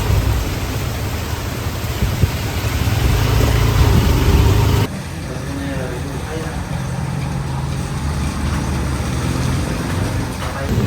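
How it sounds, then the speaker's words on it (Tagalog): Steady, dense broadband roar of heavy warm rain, loud and close, with a sudden drop in intensity midway before continuing as a heavy, even downpour. "Mas lumakas po ang ulan."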